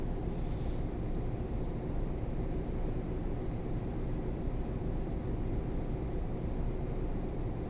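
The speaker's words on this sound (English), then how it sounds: "Not a very loud engine on this one, has to be said" A quiet truck engine drones steadily inside the cabin in the Euro Truck Simulator 2 video game, a low, even rumble with no talking.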